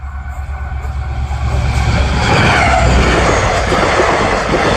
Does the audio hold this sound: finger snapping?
no